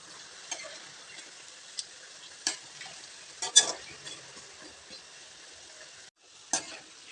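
Besan and keerai fritters frying in hot oil give a steady, fairly quiet sizzle, broken by a few sharper crackles and scraping clicks as the fritters are turned, with no voices.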